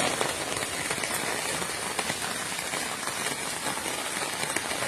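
Heavy rain pours steadily onto a home garden with rubber tree plants, a dense, close, unbroken hiss of drops on leaves and surfaces that stays loud throughout with no voices.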